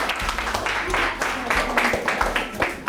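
A crowd applauds the staff of Aspire, a school, on stage at an event, with dense clapping that swells in irregular bursts and mixes with cheers or voices throughout.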